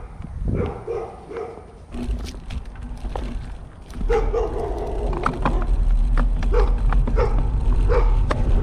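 Several country dogs bark repeatedly at close range behind a gate on a dead-end rural road in Alabama, sharp woofs and yips coming in irregular bursts over a low rumbling background.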